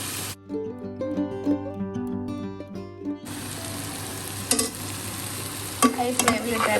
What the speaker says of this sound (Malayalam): ഇനി അടച്ച് വയ്ക്കണ്ട, തുറന്ന് വെച്ച് തന്നെ ഹൈ ഫ്ലെയിമിലിട്ട് ഫ്രൈ ചെയ്തെടുക്കാം.